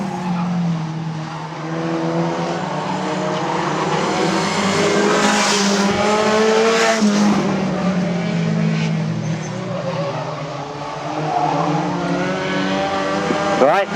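Stock cars race around the Arlington Stadium oval with a steady roar of engines, tyre squeal and skidding throughout, while a commentator talks over the noise.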